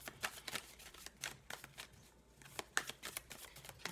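Tarot cards are drawn and handled during a reading, giving soft, close flicks and slides in a quick irregular series with a short pause midway. The sounds are faint and no one talks over them.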